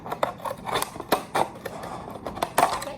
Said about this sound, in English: Get your scissors and cut up the tissue paper in little small squares